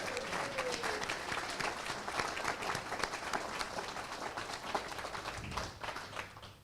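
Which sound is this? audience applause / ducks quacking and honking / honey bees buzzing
audience applause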